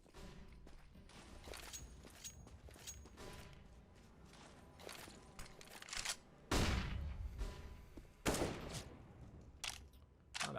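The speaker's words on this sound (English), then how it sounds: "Oh, that pre-fire from Sizzy actually damages Cutie down to 81." Counter-Strike: Global Offensive match gunfire: bursts of rapid shots and single sharp cracks, some loud and close, others fainter, with footsteps and game mechanics between the bursts.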